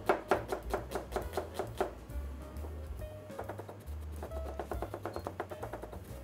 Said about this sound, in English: we cut the onion.